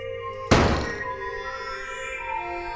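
A single heavy boom as a shotgun fires with the Lethal Knockback recoil mod in the game Lethal Company, followed by a ringing tonal decay that lingers under a faint musical background.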